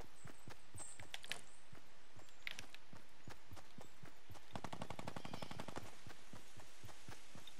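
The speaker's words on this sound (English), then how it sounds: "let's hope that guy was not shooting at me" Sharp gunshots from the battle-royale game Fortnite crack out in bursts, single shots early, then a fast rapid-fire volley in the middle, set over a busy game backdrop of footsteps and ambient effects.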